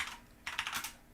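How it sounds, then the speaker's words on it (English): Rapid typing on a computer keyboard during a programming session, close and fairly loud, with quick bursts of clicky keystrokes and a short pause between flurries. "I'm typing through some serious lag here."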